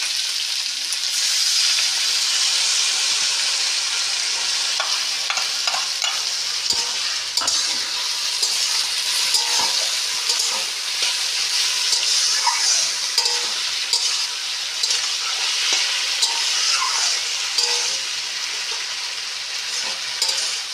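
Okra and potatoes with spices sauté for a Bengali bhindi chorchori, giving a loud, continuous frying sizzle. Faint stirring scrapes surface now and then throughout.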